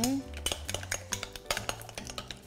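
A fork clinks quickly and repeatedly against a bowl while an egg is beaten for a Korean zucchini and shrimp pancake batter, with close, sharp, irregular taps.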